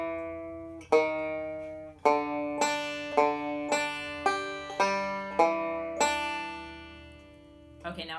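A few slow plucked banjo notes lead into a short lick, each note ringing out clearly and decaying over a low steady hum.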